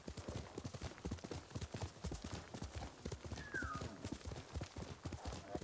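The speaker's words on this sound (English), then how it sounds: "You're a good horse, Kage." Quiet, steady horse hooves clip-clop in a walking rhythm in the video game Ghost of Tsushima, with a brief whinny-like tone partway through.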